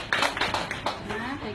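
A small group claps in congratulation with several sharp, fairly close claps in quick succession that then fade out, mixed with people talking.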